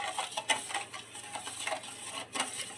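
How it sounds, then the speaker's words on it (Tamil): A spoon stirs sugar and a pinch of salt into coconut milk batter for paal paniyaram, making quiet, steady swishing and light clinks against the bowl at close range, with no voices. "இப்போ எல்லாத்தையும் மிக்ஸ் பண்ணிடலாம்"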